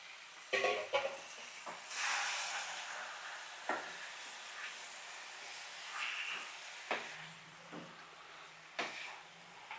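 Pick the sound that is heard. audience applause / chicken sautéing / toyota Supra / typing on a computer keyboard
chicken sautéing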